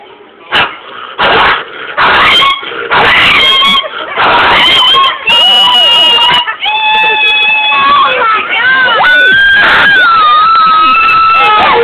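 A woman vocally imitates a dog fight on a talk show, producing loud bursts of snarls, yips, barks and whining howls in rapid succession with little pause, close and forceful throughout.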